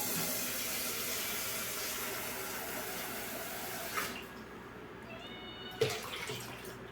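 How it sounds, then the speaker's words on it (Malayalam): Water pours into a pot of freshly cooked rice in a steady stream for about four seconds, then stops, leaving a quieter tail with a couple of brief clinks. "കുറച്ച് വെള്ളം ഒഴിക്കാം."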